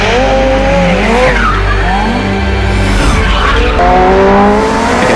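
A McLaren Senna road car in Need for Speed No Limits, engine and induction howling loud and close, pitch sweeping up and down through shifts while tires squeal and skid throughout.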